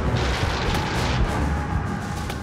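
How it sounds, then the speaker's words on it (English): Heavy British artillery bombardment, hundreds of guns firing shells in a continuous rumbling barrage, dense low booms blending into a steady roar without pause. "342 British guns fire thousands of shells with deadly accuracy."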